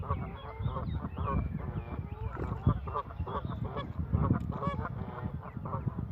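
Geese honk by the water at Hainault Forest, climbing a steep bank out of a lake; a busy series of close, nasal honks overlaps continuously, with quieter voices talking underneath.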